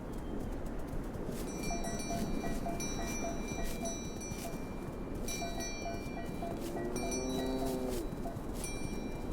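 A herd of wild asses moves across open grassland, with a steady outdoor rumble, scattered hoof-like knocks and occasional distant animal calls, and birds chirping faintly above throughout.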